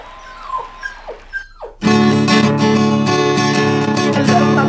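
A puppy whimpers in a few high, rising whines, then breaks into a sustained, loud bout of yipping and crying that fills the rest of the moment close up, with no talking.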